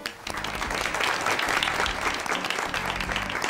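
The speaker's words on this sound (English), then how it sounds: "Let's give her a round of applause." A live audience breaks into sustained applause for a makeup artist student during a fashion show, a dense, steady wash of clapping that swells slightly and holds loud throughout with no voices.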